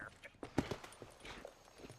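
Horse hooves clip-clop at a walk in the Western open-world game Red Dead Redemption on Xbox 360, a brief burst of hoof knocks standing out over a murmur of background speech.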